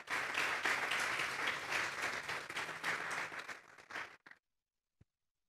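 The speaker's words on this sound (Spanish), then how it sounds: "Denle un fuerte aplauso pues al Señor." A church congregation at a Sunday service breaks into loud, dense applause, many hands clapping steadily for about four seconds before quickly dying away into silence, with a single faint thud shortly after.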